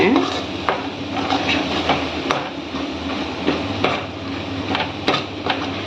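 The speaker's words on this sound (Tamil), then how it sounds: "நல்ல எண்ணெயில் நல்லா இந்த மாதிரி கலந்து விடுங்க" Masala powder is mixed into oil in a pan while making poori, producing close metallic scraping and clinking of utensil on pan in irregular strokes over a low rumbling background.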